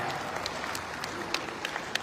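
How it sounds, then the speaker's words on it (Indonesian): A crowd applauds at the opening ceremony of a regional business association congress in a hotel in Makassar, a soft, steady wash of clapping with a few sharper claps standing out. "Bapak Mahmud, memberikan tepuk tangan yang sangat meriah"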